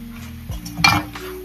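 A spoon stirs tomato masala in a pan, giving a brief scrape and clink with a light sizzle underneath for a moment, close and fairly loud, with no voices.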